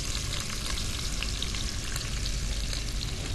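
Onion fries in a pan with a dense, steady crackling sizzle, close and continuous, with a few faint stirring scrapes and no talk.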